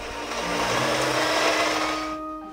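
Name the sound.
beating very soft butter creamy in a mixing bowl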